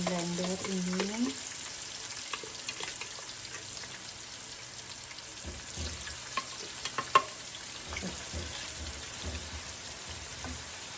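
Spice paste for rendang sizzles and crackles steadily as it is stirred and fried in a pan, with scraping stir sounds throughout and a brief voice near the start.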